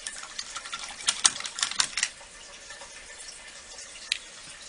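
A paint brush swished and tapped in a cup of water during resin pony crafting, with quick splashy strokes for about two seconds, then near quiet with one small clink.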